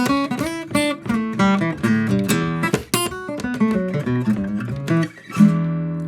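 A solo electric guitar plays a quick bluesy lick blending dominant seventh and blues scale notes, bent and picked, phrases rising and falling before resolving on a held note.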